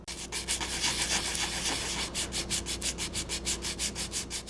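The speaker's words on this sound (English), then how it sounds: "I sanded it with 150" Sanding a wood-turned vessel on a lathe with 150-grit sandpaper, a steady close rasping rub that settles into a rhythmic back-and-forth pulse, with no talk over it.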